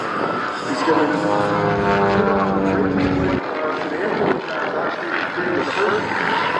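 A propeller aerobatic airplane performs at an airshow, its engine droning loudly with a steady tone that shifts in pitch, then cuts to a rougher roar, while a commentator talks over it throughout.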